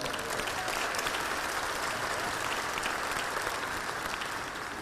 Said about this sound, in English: it's worth a hearty round of applause for all of you